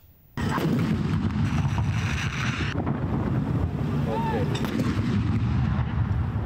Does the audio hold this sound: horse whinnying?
no